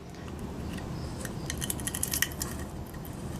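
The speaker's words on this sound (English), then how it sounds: "we're going to use pliers to peel that back, and it should come off like foil" Pliers peel the thin weighted base off a sterling silver candy dish, producing close metallic scraping, crinkling and small clinks that cluster in the middle, with no talk.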